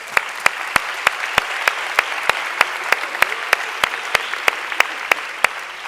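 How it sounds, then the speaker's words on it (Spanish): An audience clapping in applause, heard as a steady, evenly timed series of sharp claps, crisp and fairly close, with no talking. "Un aplauso para esta lengua."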